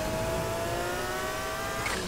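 A car engine in a video game police chase holds a high, steady rev, a loud, close drone with harmonic whine for about two seconds.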